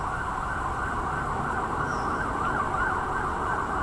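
A steady siren wails on without pause in Peckham, London, fairly distant, blended into a constant roar of city traffic.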